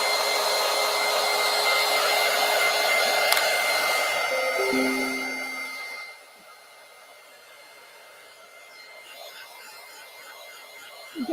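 A handheld hair dryer blows on a piece of artwork, giving a loud, steady close-up whoosh for about six seconds before it cuts off, leaving a quiet room with only faint residual noise.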